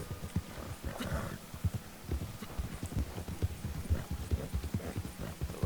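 Hooves of a ridden horse in the Red Dead Online video game clip-clop in a steady, even gait, close and continuous, with a faint ambient hum beneath.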